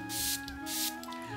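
Perfume sprays from a bottle in two short, breathy hisses about half a second apart, close and fairly soft against a faint steady background hum.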